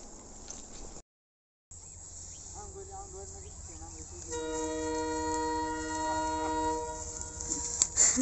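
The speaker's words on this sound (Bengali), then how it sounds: "নেমে গেছি, ট্রেন চলে আসছে।" A train approaches through open countryside near mustard fields while crickets chirp. A low rumble builds and a long, steady, loud horn blast sounds partway through and holds for several seconds.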